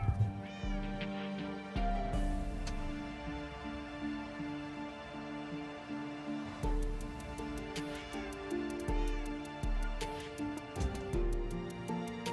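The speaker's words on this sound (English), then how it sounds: "There's cats in game, but there's also cat out of game screaming." A whiny cat in the room screams and meows repeatedly in long, wavering cries, fairly close, mixed with background computer game sounds and scattered clicks.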